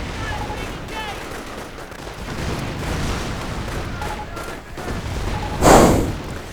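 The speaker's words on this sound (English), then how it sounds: "Artillery support is now available." Distant artillery fire in a real-time strategy battle game, a steady rumble of gunfire and fusillade with one louder boom near the end, beneath occasional game speech.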